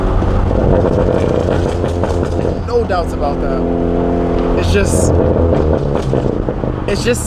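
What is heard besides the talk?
big turbo Ford Focus ST engine driving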